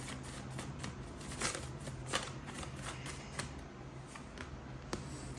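Tarot cards are shuffled and drawn, giving faint, close, crisp flicks and soft snaps in an irregular rhythm over a low steady background hum, with no voices.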